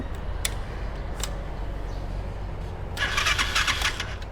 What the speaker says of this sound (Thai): เดี๋ยวมาฟังเสียงเครื่องครับสตาร์ทมือ ติดง่ายครับ